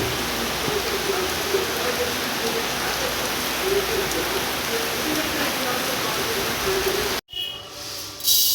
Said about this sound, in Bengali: এই যে কী হারে বৃষ্টি নামেছে